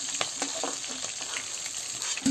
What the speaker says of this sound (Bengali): এই যে মাছ কাটা ভাজা হয়ে গেছে লাল লাল করে,